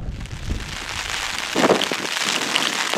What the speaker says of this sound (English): It is raining sideways.